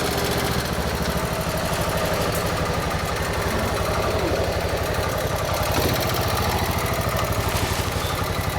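A motorcycle engine idles close by in a workshop setting, a steady rapid chugging pulse holding at the same level throughout with no talking.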